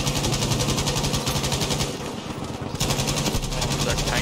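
A medium machine gun in Battlefield 5 rattles off long, rapid bursts of gunfire, loud and close, with a brief pause midway before firing resumes.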